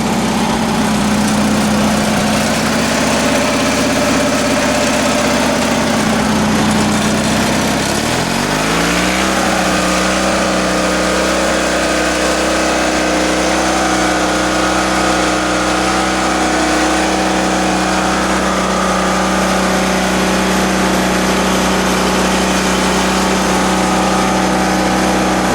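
A small homemade bulldozer's engine runs loud and close, idling and then dropping into a lower, steady drone as it is put in first gear and keeps chugging evenly.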